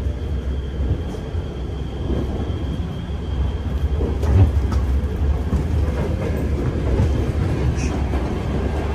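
Steady low rumble and rhythmic rolling inside a Moscow local commuter train carriage, a continuous close, fairly loud rail noise with faint wheel clatter throughout and no talking.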